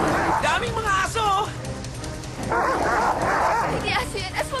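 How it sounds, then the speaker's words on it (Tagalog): A pack of dogs barks and yips in choppy bursts, close and loud, tangled with excited voices and crowd noise in a horror-comedy film scene about aswang creatures. "Daming mga aso!"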